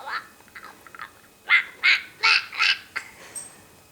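A young child imitates a duck, giving a run of four or five loud, quacking calls close to the microphone after a few softer sounds.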